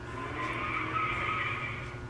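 Car tires skid and squeal in one long, steady screech that holds loud and continuous for the whole stretch, with no talking over it.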